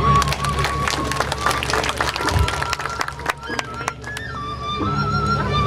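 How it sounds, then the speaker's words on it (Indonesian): An audience at a Balinese drama gong comedy performance during an anniversary celebration claps in a dense, crackling burst. Crowd voices and shouts carry through the applause, which fades slightly toward the end. "tepuk tangannya dong"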